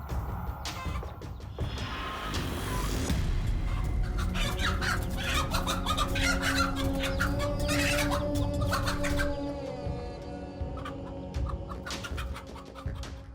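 A hen clucks steadily amid a busy chorus of other bird calls and squawks. The sound is continuous and fairly close, with no voices.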